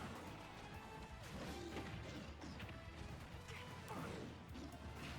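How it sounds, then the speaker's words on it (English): Meteor smash attack landing in a video game brawl: a dense flurry of crashing, smacking impacts layered over busy fight noise, with several sharper hits standing out, moderately loud and continuous throughout. "Oh, you meteor smashed me down?"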